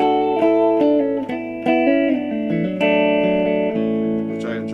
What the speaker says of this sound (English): basic sound of an electric guitar through an amplifier with a little reverb